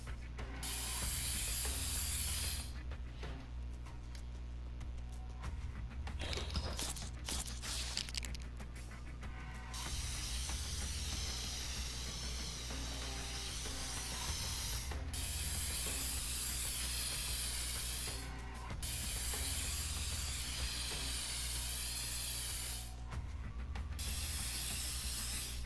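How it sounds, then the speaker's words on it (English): Steady aerosol hiss of red spray paint tagging graffiti in the game Infamous Second Son, a long continuous spray broken by a few brief pauses, with faint mechanical clicks and rattles underneath and no talk. "Oh, just red spray paint."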